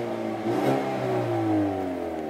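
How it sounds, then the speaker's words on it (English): A 2019 Hyundai Veloster N engine revs in eco mode, heard from close by through an open door; the note climbs and eases in one smooth, moderately loud rise. "give it some revs"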